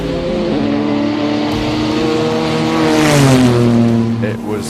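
A Lotus and a Ferrari race car climbing a hill at the Simola Hillclimb, engines roaring loud and close with rising revs and gear changes that swell toward the end.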